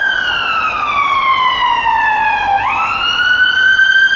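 Ambulance siren on Princes Street in Edinburgh, a loud close wail sweeping slowly down in pitch then jumping back up, steady over low city traffic noise.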